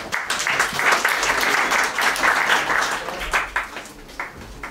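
Conference audience applauding a speaker at an occult-themed event: a full, steady burst of many people clapping at moderate loudness, thinning into scattered individual claps near the end.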